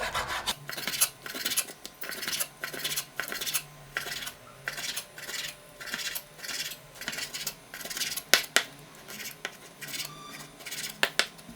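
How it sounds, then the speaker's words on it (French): A knife cuts bacon into lardons with a regular series of rasping, scraping strokes on a board, close and fairly quiet, with occasional small clinks. "Taillez des lardons."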